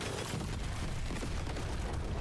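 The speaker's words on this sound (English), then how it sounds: "Let's set off these explosions." Dense, continuous rumbling blasts and booms from Deep Rock Galactic: Survivor, loud and sustained without pause, with no talking.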